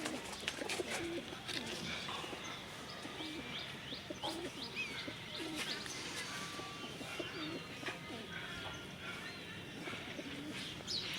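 Racing pigeons in a full loft, including a Chennai-line cock, coo and rustle steadily at a low level, with faint chirps scattered throughout.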